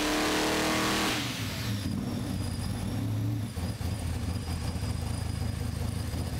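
Car engine revving at low RPM while strapped to a hub dyno under load, a loud steady drone with a sharp rise at the start, then continuous roar without speech.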